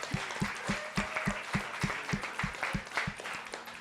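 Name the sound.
audience applause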